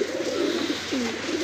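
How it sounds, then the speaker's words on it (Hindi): Rampuri and Saharanpuri pigeons gathered on a crate coo close by in a few soft, rolling phrases, one after another, with no talk. "बहुत सारे कबूतर क्रीच पे आ गए"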